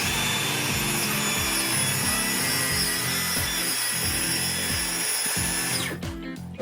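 Power saw cutting wood while ceiling framing is built in an upstairs bedroom, a steady loud buzzing run of repeated cutting strokes lasting several seconds, then the blade spinning down at the end.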